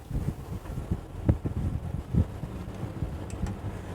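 Leopard 48 catamaran engines idling and manoeuvring astern while moored in wind, a low steady rumble with irregular wind buffeting and gusty thumps on the microphone, no talking.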